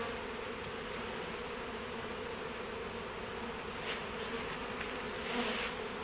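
A swarm of honey bees buzzes around a hive box, a dense continuous hum from many insects with a few closer bees swelling louder near the end.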